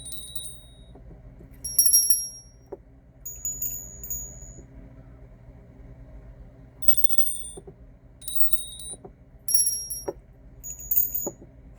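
Small bells ring in several separate bursts of bright, high chiming, each fading quickly, spread across a quiet room with faint soft taps in between.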